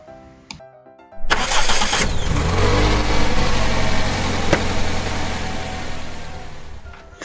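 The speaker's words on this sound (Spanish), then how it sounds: "furgoneta" A van engine cranks and catches after a brief quiet start, then runs loud and steady at a rumbling idle until the end, with no voices.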